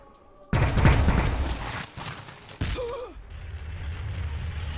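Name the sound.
units shooting in the video game Warhammer 40000 Battlesector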